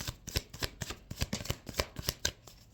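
Tarot cards being shuffled in a quick, steady rhythm of crisp riffling bursts, close and clear with no talking.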